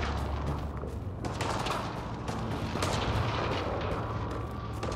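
Gunfire in the sci-fi game Mass Effect: Andromeda: a steady clatter of shots and heavy booms over a low rumble, continuous and fairly loud throughout.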